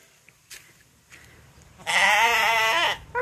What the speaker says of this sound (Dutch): Hier zijn de geitjes.